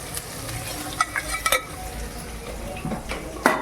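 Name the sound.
paneer frying in pan with salt and turmeric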